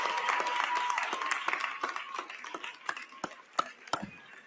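Graduates at a technical education commencement ceremony applaud and cheer toward their families, a steady crowd clapping that thins into scattered, sharper individual claps.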